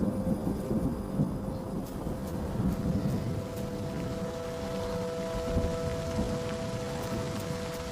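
Steady rain pattering over a low continuous rumble, with distant thunder rolling beneath; a faint steady hum runs throughout.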